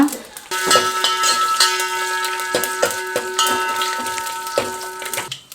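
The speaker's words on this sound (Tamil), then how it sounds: "தாளிப்பு போட்டுக்கிறேன் வடகம் கொஞ்சமாக கடுகு காஞ்ச மிளகா" Vadagam, mustard seeds and dried red chillies temper in hot oil for sambar in a home kitchen, crackling and popping in irregular bursts over a steady background hum.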